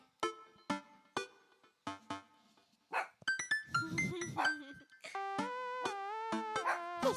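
A nervous pet dog in the game Dream Daddy barks in a run of sharp, yappy bursts with short pauses between them, followed by a longer stretch of drawn-out, whiny, voice-like sounds near the end.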